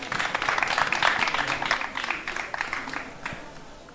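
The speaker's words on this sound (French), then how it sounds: "On peut l'applaudir." Audience applause at a live pitch session, a brief burst of clapping from a seated crowd that is fairly faint and fades out over a few seconds.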